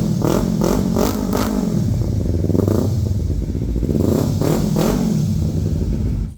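A Kawasaki Ninja 300 motorcycle engine revs loudly and close up in a series of throttle blips, rising and falling over a steady idle rumble, with no talking.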